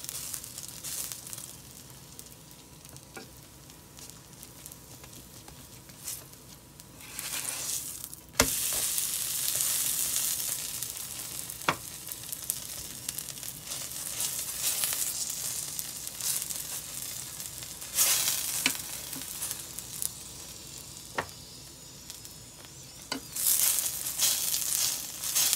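Radish paratha frying in ghee on a pan, a continuous crackling sizzle that surges louder in bursts as the bread is pressed and turned, with scraping of a spatula.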